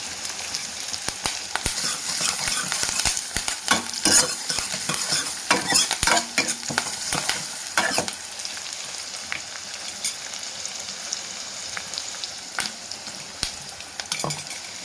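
A large chopped onion fries in a pan for a Tamil drumstick-leaf kuzhambu, a continuous loud sizzle broken by repeated scraping and clacking of a stirring spoon against the pan, with no talking.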